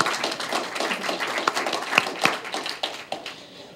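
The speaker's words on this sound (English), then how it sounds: "so a big round of applause for that" Sparse, scattered hand claps from a morning conference audience, a light patter of individual claps that thins out toward the end rather than building into full applause.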